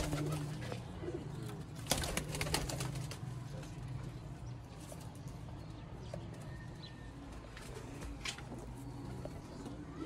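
Pigeons coo softly in a loft, faint and intermittent against a low background murmur, with occasional light knocks and rustles.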